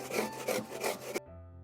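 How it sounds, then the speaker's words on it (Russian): Onion rubbed on a coarse grater in three or four rhythmic rasping strokes, close and fairly loud, ending abruptly with a short quiet tail. "либо натереть на крупной терке"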